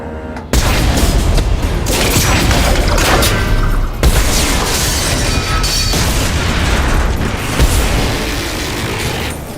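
Support struts are blown up in the Mass Effect 2 video game, giving a sustained barrage of loud booms, bursts and mechanical crashes after a brief quiet start, with sharp blasts punctuating the din.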